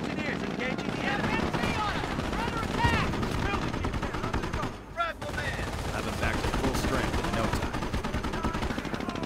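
Battle in the Company of Heroes video game, with dense rapid machine-gun and rifle fire rattling continuously, close and loud, as voices talk over the fighting.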